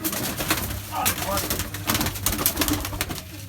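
Pigeons in a Bazi pigeon loft coo and flutter in short bursts close by, with someone talking over them throughout.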